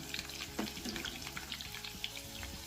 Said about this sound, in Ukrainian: Перевертаємо котлети на другу сторону. На другій стороні будемо смажити їх під кришкою